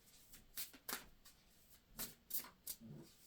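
Quiet crisp riffles of a tarot card deck being shuffled, several short bursts spaced irregularly, close up with no talking.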